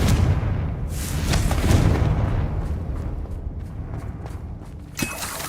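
Confringo blasting spell in Hogwarts Legacy, a deep explosive boom followed by a rumbling decay, then a sharp crack of a second blast near the end, with no talk.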